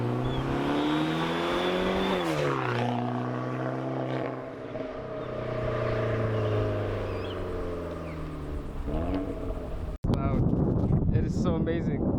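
Straight-piped exhaust on a lowered car with a blacked-out front revs loud and steady close by, pitch swelling and dipping, then cuts into a rougher burst; people talk over it.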